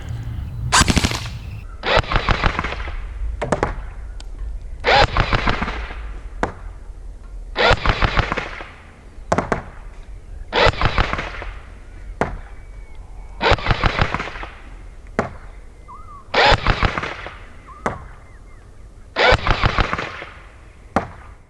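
An SRC SR4 gel blaster fires in repeated full-auto bursts at an outdoor range, each sharp rattling spray lasting about a second with short pauses between, close and loud with a faint background hum.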